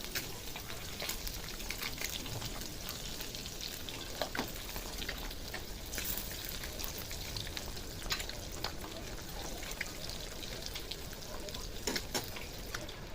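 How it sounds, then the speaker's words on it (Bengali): Halved boiled eggs frying in oil over a low flame, a continuous close sizzle dotted with sharp pops and spatters, occasionally bright, with no talking. "দেখুন বন্ধুরা, ডিমগুলো কিন্তু ভাজা হয়ে গেছে।"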